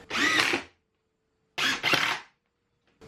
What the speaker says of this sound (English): Going to flip this over real quick and just put the screws directly in here.